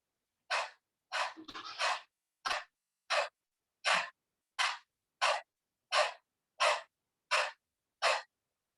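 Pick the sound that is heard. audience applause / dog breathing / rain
dog breathing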